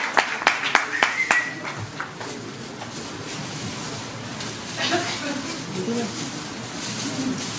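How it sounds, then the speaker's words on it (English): A short burst of clapping from an audience at a festival event in Mumbai, heard at the start and then dying away into room noise with faint voices. "Let's have a huge round of applause."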